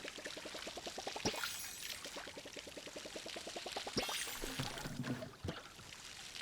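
A watering can pours over crops in the farming game Palia: a light splashing trickle set against a steady run of quick, evenly spaced footstep-like ticks, with a couple of sharper clicks along the way.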